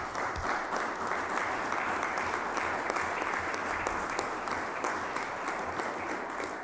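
An audience applauds at a presentation of a press yearbook, a steady, dense wash of many hands clapping at moderate distance, sustained throughout without any talking.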